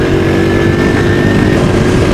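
A motorcycle engine runs loud and close with a steady, continuous roar after its air filter problem was fixed, with no voices present.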